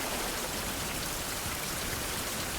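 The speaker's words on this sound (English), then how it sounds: "Still rainy." Continuous rain in the survival game Survival: Fountain of Youth, a broad unbroken wash of falling drops at a steady moderate loudness, alone with no speech.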